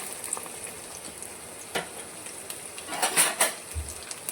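Onion goes into a pan after garlic for a spinach dal tempering, giving a soft continuous sizzle with intermittent clinks and scrapes of a spoon stirring, louder toward the end.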